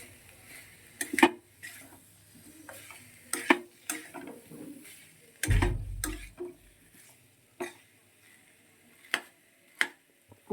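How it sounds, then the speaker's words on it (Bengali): Spices are stirred and fried in a pan over low gas for a cauliflower vegetarian dish, with scattered clinks and scrapes of a spoon against the pan and a brief burst of louder sizzling midway. "গ্যাসটা একদম কম করে দিয়ে কিন্তু আমি মশলাটা কষাচ্ছি"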